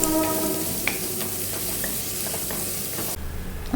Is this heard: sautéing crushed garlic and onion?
yes